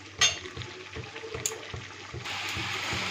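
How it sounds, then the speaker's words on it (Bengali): Water pours into a pan of Bengali katla fish curry with drumsticks and potatoes. Soft rhythmic clunks come first, then a steady rushing pour grows louder toward the end. "এইবার দিয়ে দিচ্ছি পরিমাণ মতো জল।"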